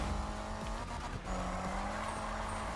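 Car drifting in the Need for Speed racing game, engine roar under a steady tire squeal with a brief dip in the middle, loud and close.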